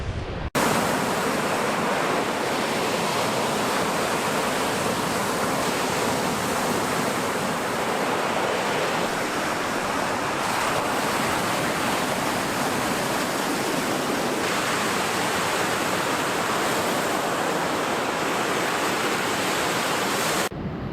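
Waves break on the rocky, pebble-strewn Pebble Beach shore of the world's biggest lake near Marathon, a continuous loud wash of surf and wind with no voices, steady for the whole stretch.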